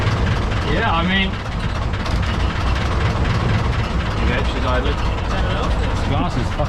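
A heavy truck engine idling with a deep low rumble and occasional revs, close by, mostly under people talking.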